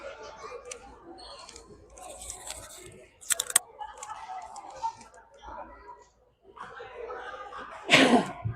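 One sharp sneeze bursts out near the end during a freshman school game broadcast, after stretches of commentators talking and light clicking and shuffling.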